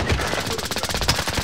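Rapid automatic gunfire in the video game Call of Duty Warzone, a dense rattling stream of shots that stays loud and continuous, with faint voices underneath.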